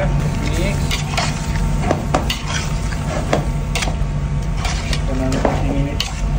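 Chicken adobo with coconut powder and lemongrass being stirred in a pan, with repeated scraping strokes of a utensil against metal over a steady sizzle, and a voice speaking between the strokes.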